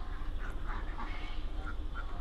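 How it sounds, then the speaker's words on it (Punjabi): An imported duck, a different breed from the common yellow-billed ones, gives a few short quacks on a farm, faint over a constant low rumble of background noise. "ਇਹ ਬੱਤਖ ਹੈਗੀ ਆ ਅਲੱਗ ਤਰ੍ਹਾਂ ਦੀ"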